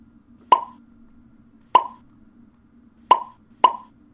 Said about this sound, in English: So now when we catch anything, it should pop.